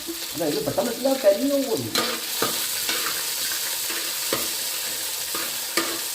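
Onion fried with cinnamon, cardamom, dried red chillies and curry leaves for chicken stew, giving a close, steady sizzle with brisk stirring and scraping, a squeaky tonal sound early on, then occasional clinks of the spoon.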